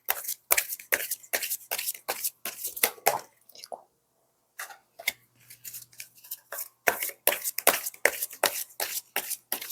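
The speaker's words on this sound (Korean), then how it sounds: "제가 우리님을 위한 조언의 카드를 뽑아보도록 할게요" Tarot cards are shuffled in rapid crisp riffles and bursts of flicking, close and clear, pausing briefly in the middle for a soft draw before the quick shuffling resumes.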